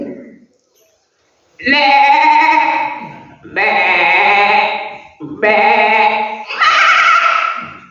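A person imitates a goat bleating, giving four loud, close, wavering bleats in a row, each lasting about a second with short pauses between, and no other sound alongside.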